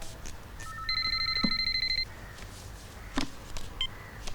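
Telephone ringing in a Tamil film scene, with electronic beeping tones in short bursts and a brief sustained tone, fairly faint and with no talk.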